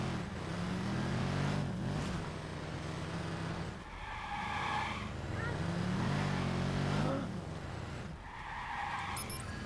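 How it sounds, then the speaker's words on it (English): A car in the video game Watch Dogs drives with a steady engine drone and repeated tyre skids at fairly low volume, while someone talks over the gameplay. "I'm taking this car."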